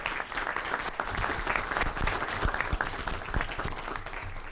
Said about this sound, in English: one more round of applause and congratulations